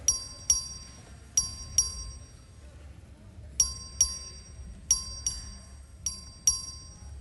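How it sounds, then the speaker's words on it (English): A bell rings in the Texas House chamber to call a record vote. It sounds as bright, clear dings in clusters of one or two strikes, each ringing briefly before decaying. The strikes are spaced across several seconds over a faint room murmur. "Clerk, ring the bell."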